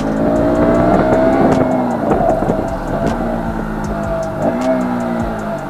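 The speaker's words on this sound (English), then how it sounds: "Wow, what an amazing downshift it has." A 2020 BS6 KTM Duke 200 motorcycle, ridden hard, revs loudly and close up. Engine pitch climbs and drops as it downshifts, with rapid changes in tone over steady wind noise.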